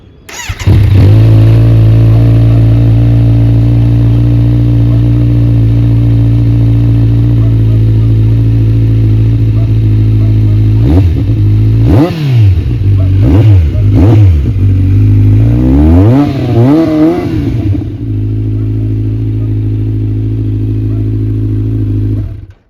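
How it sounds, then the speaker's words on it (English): A Kawasaki Z900 motorcycle engine with an Austin Racing slip-on exhaust idles loudly and close, then is blipped through several sharp revs with a raspy, throaty exhaust note before settling back to idle. "Let us fire the engine and let's see how it sounds."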